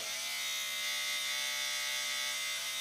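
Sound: electric trimmer trimming beard around lip area

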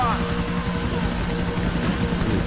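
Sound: helicopter in video game Grand Theft Auto IV

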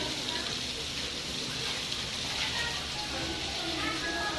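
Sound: heavy rain falling

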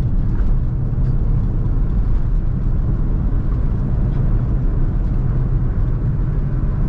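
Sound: Honda Brio car being driven, heard from inside

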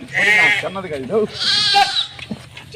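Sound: sheep bleating

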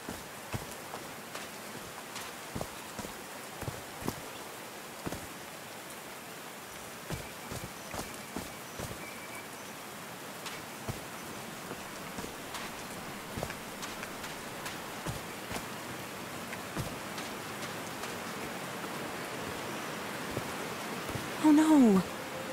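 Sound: rain falling in Call of the Sea, from a video game

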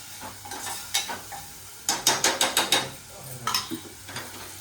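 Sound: squid being stir-fried in a pan

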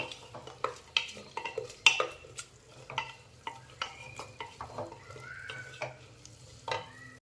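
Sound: sautéing and stirring in oil for spinach pulao

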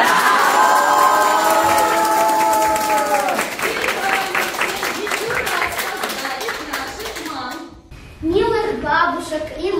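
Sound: children shouting "Bravo!" and applauding

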